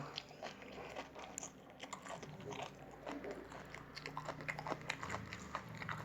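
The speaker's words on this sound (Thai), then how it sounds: "ผักกาดกรอบๆ" Crunchy lettuce chewed close to the mouth during a rustic home meal, repeated soft crisp bites and wet mastication sounds in an uneven rhythm, fairly faint.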